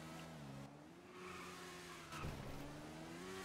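A Hayabusa motorcycle engine in GTA 5 revs through rising and falling tones, quiet but steady, with a sharp burst near the middle as the pitch climbs again, no talk over it.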